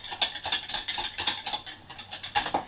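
A whisk stirs a creamy brown sugar body scrub in a bowl with quick rhythmic strokes, a steady run of close, light scraping and tapping against the sides with no voices.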